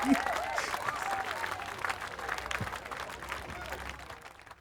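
An in-game audience in The Witcher 3 claps and cheers at a theatre performance, a dense wash of applause that swells at first and then slowly fades.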